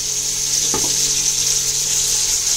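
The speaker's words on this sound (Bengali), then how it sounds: "এখানে এটা একটু হালকা করে ফ্রাই করেছি, হালকা ফ্রাই করে নেব।" Food frying lightly in a pan, a steady loud sizzle that carries through alone, broken once by a brief scrape or stir.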